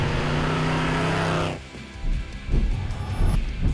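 The General Lee car's engine roars steadily and loudly, then cuts off abruptly, followed by rumbling, uneven revving and road noise as the car drives off.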